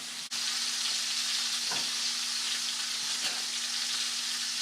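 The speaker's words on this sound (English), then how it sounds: "I'll bring you back once I get them all browned" Boneless country style beef ribs browning in a hot pan give a steady, close sizzle that runs without pause, with faint clinks of stirring and no voices.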